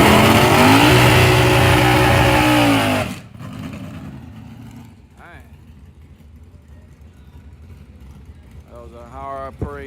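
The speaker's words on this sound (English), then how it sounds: "That was a high RPM first gear burnout." Drag racing car doing a high-RPM first-gear burnout at a night race, a loud sustained engine roar that cuts off abruptly after three seconds, leaving quieter crowd ambience and a brief distant rev near the end.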